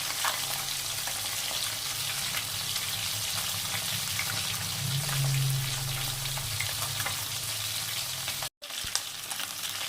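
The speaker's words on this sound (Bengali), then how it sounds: "চলো মাছটা ভেজে নিই।" Live tilapia fish fries in a pan of hot oil, producing a loud, continuous crackling sizzle with faint spattering pops throughout, close up and with no voices.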